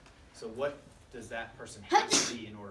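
A single sharp sneeze bursts out near the end, following a person speaking in a classroom biology test review, loud and close.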